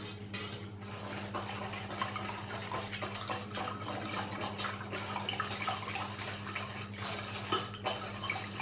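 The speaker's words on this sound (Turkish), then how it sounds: "Şeker eriyinceye kadar karıştırıyorum arkadaşlar." A cornstarch and sugar mixture is stirred steadily in a pot, with continuous soft scraping and light clinks of the utensil against the pot over a low background hum.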